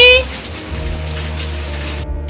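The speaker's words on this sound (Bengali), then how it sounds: "পুরো বৃষ্টি বাইরে" Steady rain hiss fills the background while low hum and faint voices sit underneath, ending with a brief drop before the rain noise resumes.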